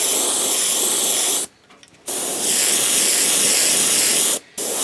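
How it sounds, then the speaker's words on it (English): An Iwata Revolution airbrush sprays a white base coat onto a fishing lure in two long, loud, close hissing bursts separated by short pauses, with no one talking. "We're going to start off with the Iwata Revolution and get a base coat on this thing."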